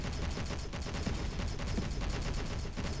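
Big cannons pound away continuously in Space Engineers space combat, a loud, rapid, unbroken volley of overlapping blasts filling the whole stretch without any talking.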